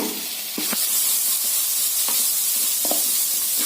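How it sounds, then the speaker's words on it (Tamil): Mustard seeds, urad dal, grated ginger and carrot sauté in hot oil for sundal with a steady, close sizzling hiss. A few brief scraping stirs cut through it at intervals. "கேரட்டுங்க இதெல்லாம் சேர்த்து நல்லா இந்த எண்ணெயில் வதக்கி விடலாங்க"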